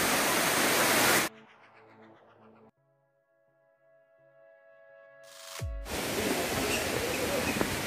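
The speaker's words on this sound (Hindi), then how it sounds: "फाइनली हम तीसरे वाटरफॉल के पास पहुंच गए।" Steady broadband roar of the third cascade of Elephant Falls near Shillong, Meghalaya, loud and close for about a second, then cut off by a quieter tonal passage before the rushing water returns strongly for the last two seconds.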